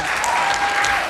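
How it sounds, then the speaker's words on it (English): Audience applause at a Pasifika Fusion performance event, a dense burst of clapping from a crowd, loud and close, lasting only about a second. "Another round of applause,"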